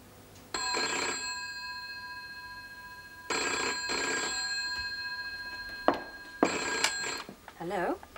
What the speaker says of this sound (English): Oh, James, I'm so glad you rang.